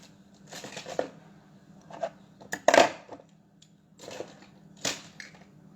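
Decorative edge scissors snip through paper in several separate crisp bursts, close and fairly loud, with short pauses between the cuts.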